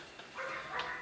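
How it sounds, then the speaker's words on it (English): A dog barks twice in the background, faint and distant, heard from a garage with the door open during a rifle shooting session. "excuse the dog in the background"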